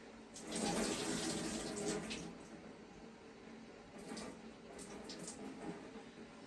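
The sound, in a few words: water draining out of yarn tray at sink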